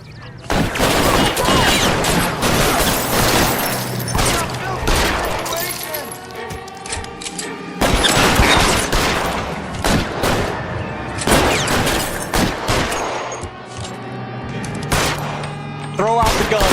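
Shootout in the video game L.A. Noire, with loud bursts of rapid gunfire and repeated sharp shots that come in dense volleys and brief pauses and carry on throughout.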